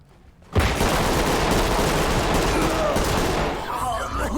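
A suspect fires a rifle in the video game Ready or Not: one sudden loud blast, then a dense, sustained roar of gunfire and noise that fills the rest of the moment.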